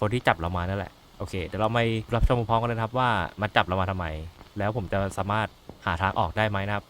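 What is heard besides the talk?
None of the usual background noises is heard.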